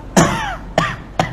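Three dry coughs close to the microphone, one longer followed by two shorter bursts spaced about half a second apart, in a talk setting with no speech between them.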